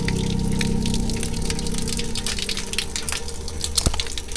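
Water pours freely and steadily from an open tap at a seaside bike campsite, a loud, constant gushing rush with a brief knock near the end.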